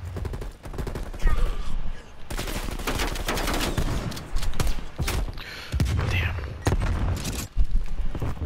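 Gunfire in Call of Duty: Black Ops Cold War during a multiplayer match, loud close bursts of automatic weapon fire in rapid repeated volleys with booming impacts and mechanical clatter.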